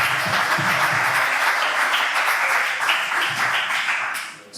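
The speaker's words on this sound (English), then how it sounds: "Let's all give a round of applause for Alex one more" A meet-up audience breaks into steady, sustained applause to celebrate Alex at a company's first-anniversary event, dense clapping filling the room for several seconds before tapering off at the end.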